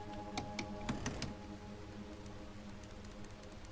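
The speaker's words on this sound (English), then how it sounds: "Nope, gotta keep clicking. Clicking like crazy." Rapid mouse clicks work the steam donkey lever in Red Dead Redemption. The dense, uneven clatter is loudest early on and thins into lighter ticks over a low background hum.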